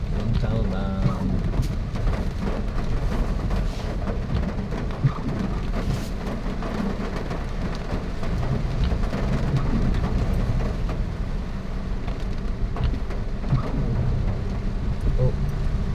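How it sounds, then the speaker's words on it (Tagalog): Heavy rain from Typhoon Enteng pours down in Montalban (Rodriguez) in a constant loud roar with a deep rumbling undertone, while voices talk faintly underneath. "Malakas na ulan."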